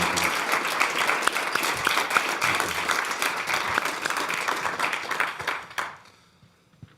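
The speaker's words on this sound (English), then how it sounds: "I think you also heard from the warm applause" Warm audience applause after a prime minister's speech at Davos 2019, a dense, steady roar of many hands clapping that carries for about six seconds before tapering off quickly.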